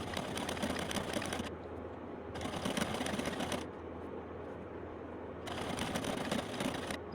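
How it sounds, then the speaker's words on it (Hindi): An electric sewing machine stitches along the edge of a farshi salwar's fabric in three bursts of rapid mechanical chatter, close and loud, separated by short pauses. "तो ये मैं किनारे पे स्टिचिंग कर रही हूँ।"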